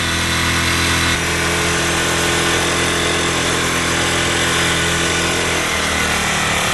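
A Ryobi RYi1000 inverter generator runs with its choke off, a steady dense engine drone with a slight shift in tone early on, loud and close without speech.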